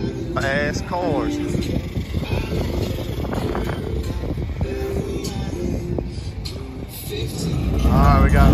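Race car engines run and warm up in the pits on a cold night at HTF's Southern Showcase, a rough, low rumble under steady talking, swelling louder toward the end.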